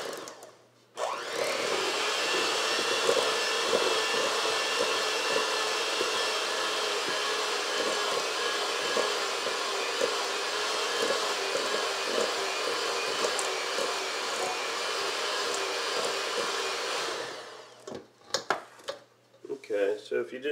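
Electric mixer running on low speed through banana cake batter, a steady loud whirring drone that starts abruptly, holds for about sixteen seconds, then stops, followed by a few knocks and handling sounds.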